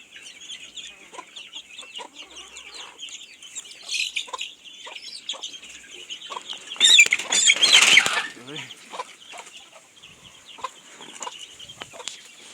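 Jamaican game fowl, including a rooster, cluck and squawk in a busy, scratchy burst of calls, loudest midway through, with scattered pecking and rustling around them.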